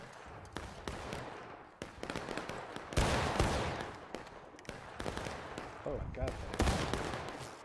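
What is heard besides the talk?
gunshots fired at a reenactment battle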